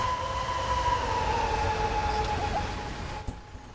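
Twin BR 218 diesel locomotives in Train Sim World 4 run their engines, giving a steady droning hum with sustained tones that drops away near the end.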